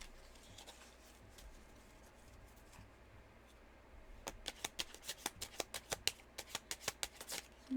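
Reflection cards handled quietly at first, then shuffled in a quick run of crisp, evenly spaced riffling clicks close to the microphone.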